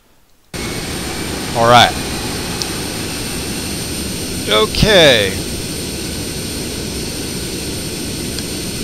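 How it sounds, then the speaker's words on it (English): Twin jet engines of a T-2 Buckeye trainer in a flight simulator game, heard from the cockpit as a steady loud whine and roar throughout, with someone speaking briefly over it. "we are now in the cockpit with the engines rolling"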